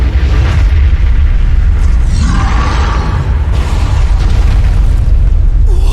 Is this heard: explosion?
yes